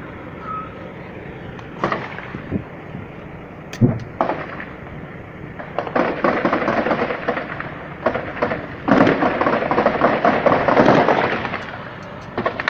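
Sharp gunshot bangs from a shootout in Jerécuaro, Guanajuato crack out at irregular intervals over a noisy outdoor background, with a few bursts of rapid popping.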